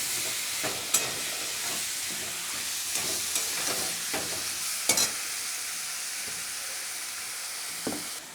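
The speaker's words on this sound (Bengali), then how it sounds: "হাফ চামচের মতো আদা বাটা দিয়ে ভালো করে আমি কষিয়ে নেব" Ginger paste and onion sauté in a pan, a steady soft sizzle running throughout with a few sharp scrapes of a spoon against the pan at intervals.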